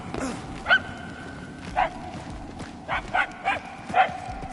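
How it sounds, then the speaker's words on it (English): A dog barks in the Guardians of the Galaxy video game, several short yelping barks spaced irregularly over a quiet ambient background, moderately faint and somewhat distant. "The barking is getting fainter."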